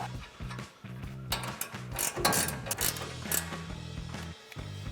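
A ratcheting wrench tightens an 18mm nut on a sway bar link during a leveling lift install on a Ford F-150, giving rapid metallic clicking bursts close up under a steady mechanical hum.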